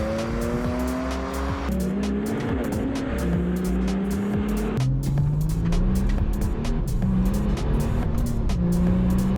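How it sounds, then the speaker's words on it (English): A Volkswagen Amarok V6 pickup launches hard from a standstill, its engine roaring close and loud as the revs climb, drop at each gear change and climb again, with a constant rumble and no talk. "That launch in the Amarok was just insane."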